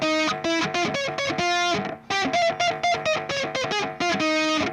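Distorted electric guitar playing a tapped melody, with rapid bright notes in quick bursts and a short gap midway, loud and close with no talking.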